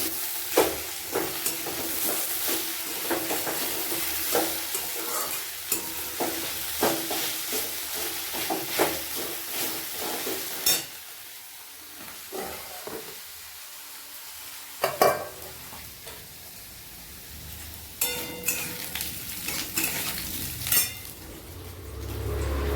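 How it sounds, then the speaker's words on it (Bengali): Fish sizzles and fries in a pan in a home kitchen, a soft steady hiss broken by sharp clinks and scrapes of a utensil stirring against the pan. "এখানে কিছুটা মাছ ভাজা হয়ে গেছে। অ্যান্ড দেন এখানে ফ্রাই বসিয়েছি।"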